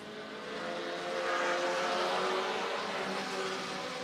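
Race cars of the Pintys Knights of Thunder series accelerate at Brighton Speedway, a loud, steady roar of engines that swells slightly midway and holds without a break, with no voices.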